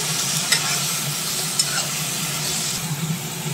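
Grated radish filling for paratha frying in a pan with a splash of water, a steady loud sizzle with a few sharp scrape-and-stir knocks of the spatula, no talking.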